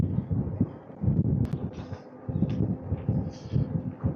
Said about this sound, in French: J'ai le vent en pleine face.